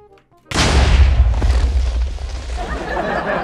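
A Lucky Block explodes in a video game with a sudden loud boom after a brief quiet moment, followed by a heavy, sustained rumbling roar that slowly thins out.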